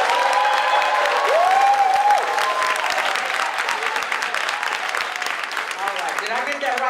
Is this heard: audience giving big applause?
yes